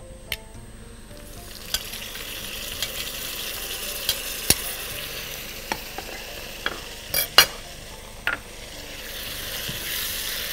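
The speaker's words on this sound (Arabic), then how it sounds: "ناخد كده الفلفل، نحطه مع البصله." Chopped peppers and onion frying in a pan, making a steady, close sizzle throughout, with scattered sharp clicks and scrapes from stirring.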